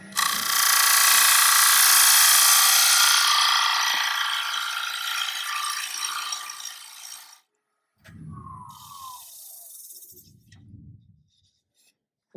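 A bowl gouge cutting a wooden plate on a lathe, a loud close scraping hiss that fades over several seconds, then stops, followed by short separate rubbing bursts and a brief squeal.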